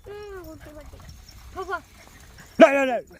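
Several dogs bark and yelp close by, short bursts separated by pauses, with a final loud, drawn-out bark.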